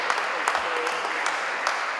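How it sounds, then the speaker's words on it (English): A warm round of applause from an audience at a book event, a dense, steady wash of many hands clapping close by for two seconds, with a faint voice mixed in. "Please give a very warm round of applause."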